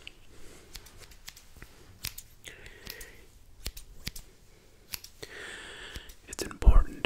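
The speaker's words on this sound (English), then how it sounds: "That is why I can use two scissors." Scissors snip near the ear in a virtual ASMR haircut, with irregular crisp clicks and short bursts of cutting, under soft whispering.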